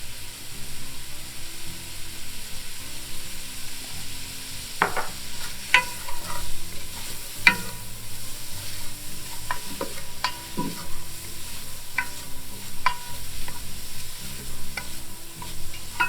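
Onions sauté in a pan with ground chipotle pepper and cayenne for a sausage, potato and kale soup, a quiet steady sizzle broken by occasional scrapes and stirring clicks of a utensil, with no one speaking.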